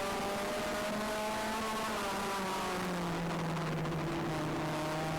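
Race cars in a heat race on a track, engines droning loud and continuous with pitch slowly falling as the cars pass and fade, a sustained roar with no talk.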